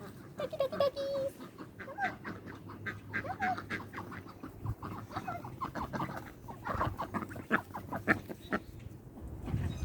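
Ducks quack and chatter on a farm, a busy overlapping flock close by with clucking fowl, while a person talks softly now and then.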